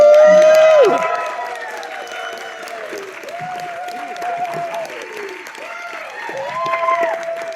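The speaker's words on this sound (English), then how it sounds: "One major way is to clap, and we've just done that." A theater audience at a Scary Home Companion stage show breaks into loud, sustained applause, thick clapping with whoops and cheering voices rising over it, steady for several seconds.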